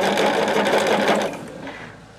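Sewing machine stitching quilt fabric for a Tree of Life block, a steady loud whirring run that slows and fades near the end.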